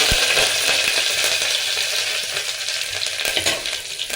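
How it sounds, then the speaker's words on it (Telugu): Cumin seeds sizzling in hot oil for pongal, a loud, dense, steady crackle and hiss that starts strong with an initial splash and eases slightly over a few seconds, with no talk. "బాగా వేడి అయినాక జీలకర్ర అంతా వేసుకోండి"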